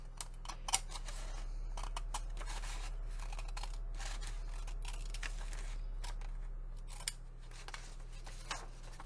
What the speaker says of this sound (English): the only smaller scissors I've got are kids' safety scissors